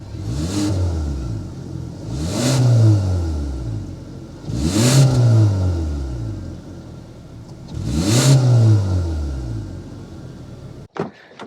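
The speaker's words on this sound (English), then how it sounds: "start it up so you can hear that exhaust note" A Kia Forte GT-line sedan engine revs four times in steady succession, each blip rising and falling with a clear exhaust note, loud and close, with a brief click near the end.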